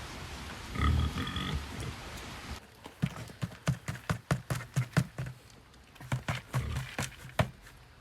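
An Idaho Pasture Pig grunts close by, a steady run of short low grunts in quick rhythm, pausing and then resuming, after a brief noisy stretch at the start.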